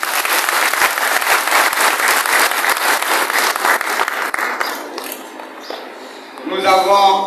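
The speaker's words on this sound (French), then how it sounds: "Applaudissons-les." A church congregation applauds religious brothers at a thanksgiving Mass, dense steady clapping filling most of the clip before thinning out, with a voice rising at the end.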